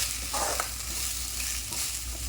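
Food sautés in hot oil in a pan, a steady close sizzle with a couple of brief scraping stirs from a spoon, no voices.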